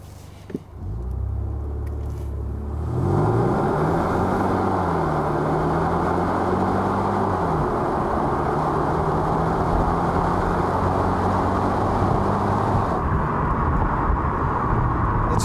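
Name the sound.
2021 Kia Optima 1.6 liter turbo accelerating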